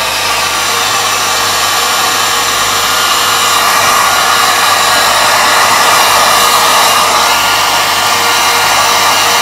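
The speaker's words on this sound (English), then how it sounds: "Using a hairdryer on low," Hairdryer on its low setting blowing steadily to dry a Bradley Mickey Mouse alarm clock movement after cleaning, a constant close whooshing motor hum with no speech.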